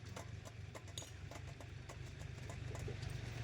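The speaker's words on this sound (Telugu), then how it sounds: "అదిగ్గా చూడండి ట్రాక్టర్ పోతుందో" Faint in the distance, a tractor chugs past in the countryside, its engine giving a steady low drone with a rhythmic ticking knock on top.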